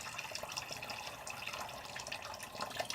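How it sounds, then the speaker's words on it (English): Steaming hot water runs from a tap in a steady, fairly quiet splashing stream, with small uneven spatters during a head shave with a razor. "I have this water running so I can keep on wetting it pretty nicely with really steaming hot water"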